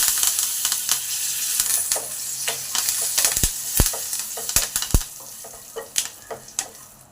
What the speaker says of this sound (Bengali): এবার কারি পাতাটা দিয়ে দিলাম